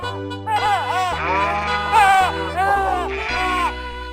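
Sheep bleat near and loud in a series of wavering, tonal calls, several overlapping, with a steady low drone underneath and no talk, in the setting of shepherds guarding their flock at night.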